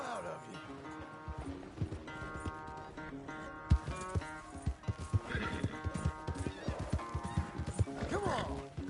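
In a Red Dead Redemption video game, a horse neighs and whinnies repeatedly while hooves clip-clop in a busy rhythm close by, with music and a voice underneath.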